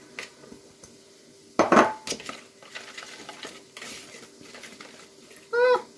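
Flour being stirred into a zucchini and bacon mixture for a baked casserole, with a few soft scraping and clinking utensil sounds against a bowl, one louder scrape midway and a brief clatter near the end.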